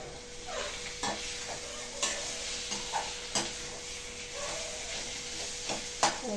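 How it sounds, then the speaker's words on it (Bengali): Potatoes are turned through a pan of cooked-down spiced masala, with a soft continuous frying hiss broken by regular scrapes and light knocks of the spoon roughly once a second. "মশলা কষে গেছে, এবারে আলুটা ঢেলে দিয়েছি এর মধ্যে"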